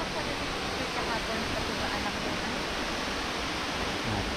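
A steady, broadband rush of flowing water from a clear bathing waterfall in Bukidnon or Camiguin, continuous and even, with no other distinct sounds.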